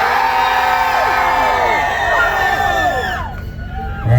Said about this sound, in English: Don't cheer unless you want the Jeep to win.